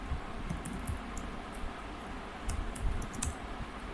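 Quiet clicking of keys on a computer keyboard, uneven bursts of taps at close range with short pauses between them, and no one speaking.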